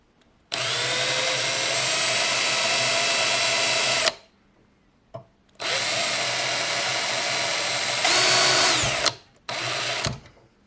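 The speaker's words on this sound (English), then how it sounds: "Maybe I need to drill it a bit more." A power drill bores into a part of a TEVO infrared instant heater in three loud bursts: a long run, a second long run that shifts pitch near its end, then a short final burst, with brief silences between.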